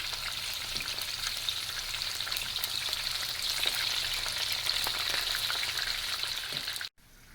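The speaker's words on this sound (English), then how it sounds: "as they're frying gently" Steady, close-up sizzling and crackling of shishito (friggitelli) peppers gently frying in a pan, continuous throughout before cutting off abruptly near the end.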